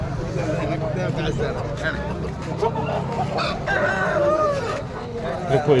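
Roosters crow and chickens cluck amid a busy crowd at a poultry market in Pollachi, with people talking throughout in a noisy, cluttered setting.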